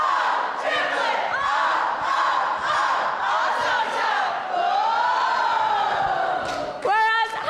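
Region 3 delegates at a student government general assembly chant a rhythmic cheer in unison, loud massed voices shouting in a call-style cadence, with a sharp yell near the end.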